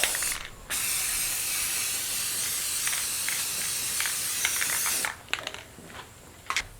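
Clear coat paint is sprayed from an aerosol onto a movable welding vise in a long, steady, close hiss lasting several seconds, then breaks off into a few rattling clicks and short spurts.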